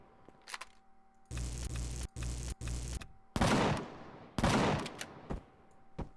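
Turret gunfire in the space survival game Empyrion Galactic Survival comes as loud bursts of rapid shots, several sustained volleys separated by short gaps, with no voices.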